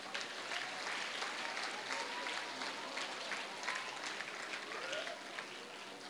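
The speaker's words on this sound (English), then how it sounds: "Please give a round of applause for all the teachers." A school house closing ceremony crowd gives a round of applause for the teachers, with sustained, even clapping heard from a slight distance and faint voices underneath.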